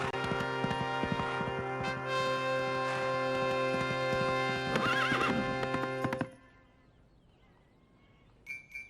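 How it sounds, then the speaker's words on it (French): Horse hooves clip-clopping in a rapid gallop with a whinny in an animated medieval adventure, loud and continuous for about six seconds before stopping abruptly. "J'ai un cheval scellé dans l'écurie"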